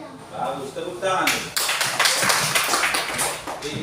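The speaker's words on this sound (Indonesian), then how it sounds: "bagus, tepuk tangan" Applause from a group of children or class, a burst of hand clapping that swells in the middle and continues steadily, with voices mixed in underneath.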